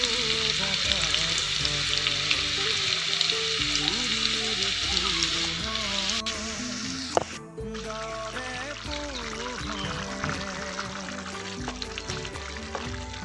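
Ginger and fenugreek frying in hot oil for a fish dish, a steady loud sizzle running throughout, close by, with brief stirring or shifting partway and no talk.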